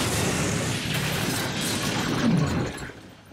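A bomb blast in a Fallout episode shatters glass. A loud, sustained roar of debris and breaking glass with a deep rumble fades away at the end.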